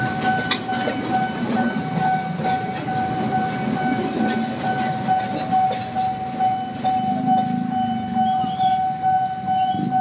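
A train rumbling past with rhythmic clatter of wheels and a steady tonal hum, loud and close, no talking.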